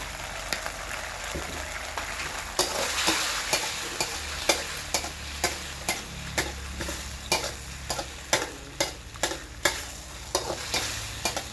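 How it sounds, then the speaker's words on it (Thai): Canned fish stir-fried with basil, soy sauce and seasonings in a pan, a steady sizzle under repeated sharp scraping strokes of a spatula, close and fairly loud, with no talking. "ผัดให้ เครื่องปรุงมันเข้าเนื้อครับ"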